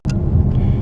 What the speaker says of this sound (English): we're back in the car now and just driving back home